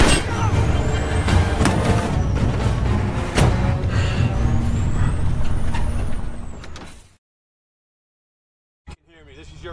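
A truck being hijacked in an action film roars past with a heavy engine and bursts of air-brake hiss, loud and busy for several seconds before cutting to silence, then a brief thump and a voice speaking.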